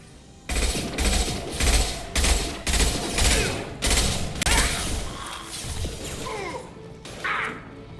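Automatic weapons fire in the video game Mass Effect 2 comes in loud, close, rhythmic bursts, about eight heavy volleys in a row, with a final shorter burst after a brief pause.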